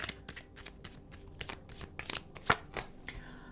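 Tarot cards are shuffled by hand up close, a quick run of crisp papery riffles and flicks in an uneven rhythm, with no other sound behind them.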